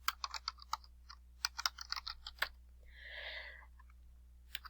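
Typing on a computer keyboard while entering text in Publisher: quick irregular bursts of soft key clicks, heard faint and alone with a short pause midway.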